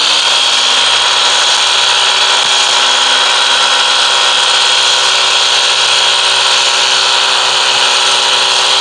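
Ryobi EZClean power washer spraying water to soak down a surface before foaming, a loud, steady broadband hiss of pump and spray running without a break throughout.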